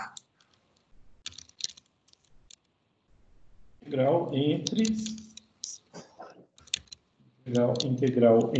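Light clicks of keys on a computer keyboard as a formula is typed in, a few sparse taps at first, then a person talks over more scattered clicks.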